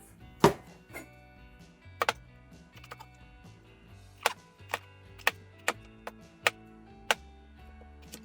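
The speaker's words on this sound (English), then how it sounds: "And cut it into 3 or 4 pieces." Knife cutting eggplant into pieces on a board, sharp close chops irregular at first, then a steadier series of about eight distinct knocks.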